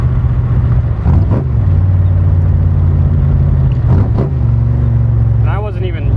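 A 480 cubic inch stroker Cobra engine with a five-speed drones at steady low revs while driving, with a couple of brief shifts breaking the rumble and some faint wind noise near the end.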